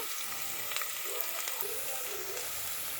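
Moong dal frying in a hot pan for a thotakura pesarapappu dish: a steady, close hiss and sizzle with faint crackles, alone without talk.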